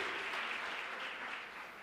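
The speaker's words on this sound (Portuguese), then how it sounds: "Você pode aplaudir o Senhor?" A church congregation applauding during a sermon, a soft, even wash of many hands clapping heard from a distance, fading slightly at the end.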